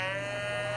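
A cow moos in a short, loud, sustained tone that fills the whole moment, heard alone without talk.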